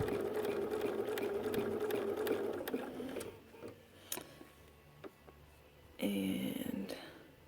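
A sewing machine stitches along a ruler line while quilting a ruler-work block, running steadily for about three seconds and then in a short later burst, with light clicks and handling sounds in between.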